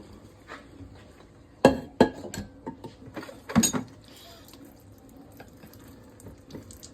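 Liquid splashes and glugs into a kitchen sink in a few close, irregular bursts, louder in the middle and trailing off into quieter drips and faint background noise.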